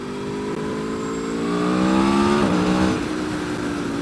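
A 2013 Aprilia Tuono V4 APRC motorcycle engine revs high, climbing steadily in pitch, peaking, then dropping back, loud and close with no talking.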